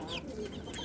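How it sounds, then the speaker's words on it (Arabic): A large rooster clucks in a rooftop chicken pen, a short close burst of throaty fowl sounds with no talking. "وهذا ديك هذا كبير"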